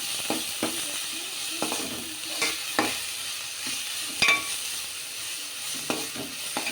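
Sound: stirring paneer masala in a frying pan

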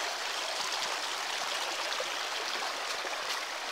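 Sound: water flowing in a rocky stream

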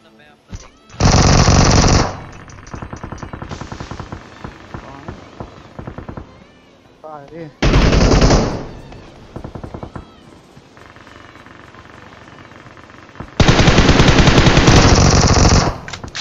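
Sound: gunfire from a gun in a video game

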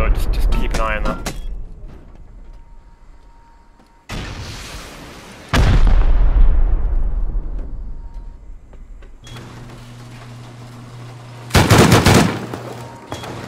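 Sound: rockets and gunfire during raid defense, video game

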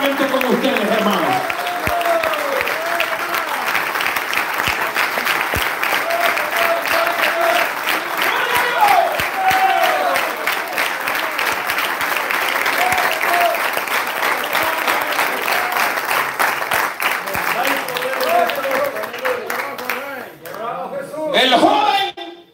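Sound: audience applause in church

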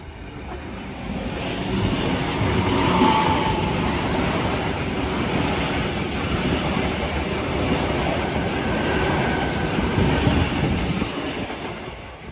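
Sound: Kiama Picnic Train at Tempe Station

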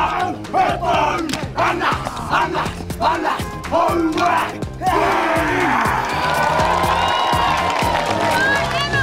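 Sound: crowd shouting at a netball final

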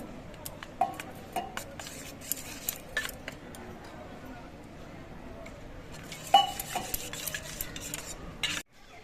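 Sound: stirring turmeric and cumin powder with water in bowl

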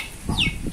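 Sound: chicken clucking near chick

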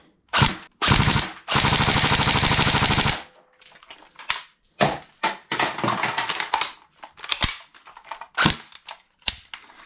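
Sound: Tokyo Marui AK Storm NGRS airsoft rifle firing full auto

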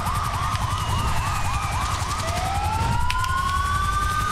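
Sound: fire truck siren in GTA V video game

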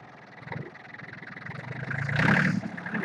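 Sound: green tractor engine revving

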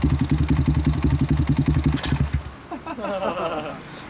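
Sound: Honda Z50 Monkey engine idling with custom exhaust

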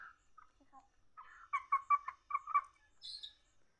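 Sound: chickens clucking while foraging

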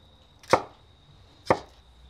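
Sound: slicing compound butter for smoked turkey breast

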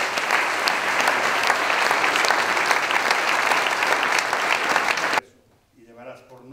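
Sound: audience applause

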